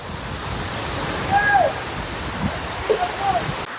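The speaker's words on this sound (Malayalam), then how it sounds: "ഇതാണ് ചീയപ്പാറ വാട്ടർ ഫാൾസ്" Cheeyappara waterfall drops from a great height, a steady broad roar of falling water filling the scene, with a faint voice briefly heard over it.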